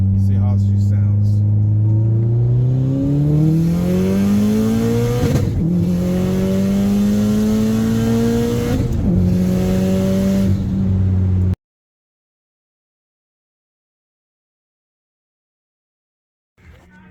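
A 500 WHP Subaru engine revs hard through a second-gear pull, its tone climbing steadily with a brief dip at each shift, loud and close, then cutting to silence before a faint thump at the end.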